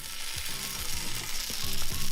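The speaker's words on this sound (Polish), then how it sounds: "Nigdy nie smażyłem tych naleśników." Pancake batter in several colours fries in a hot pan, giving a loud, close, steady sizzle with soft crackles throughout and no talking.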